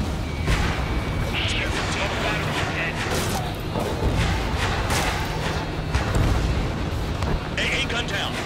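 An anti-aircraft gun is destroyed in the Ace Combat 7 jet combat game amid a loud, continuous roar of explosions and booming fire, with sharp blasts and crashes breaking through the dense rumble.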